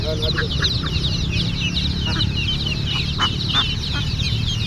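Native chicks and young country fowl clucking and peeping in a farmyard poultry pen, repeated short calls near and far over steady low background noise, with no talk over them.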